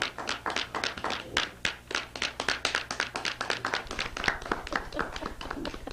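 Members at a Toastmasters club meeting in Cincinnati clap by hand, a sparse, uneven applause of distinct, crisp claps that carries on steadily for about six seconds with no talk over it.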